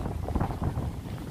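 Strong wind gusting across an outdoor microphone, a steady low buffeting roar with no talk over it.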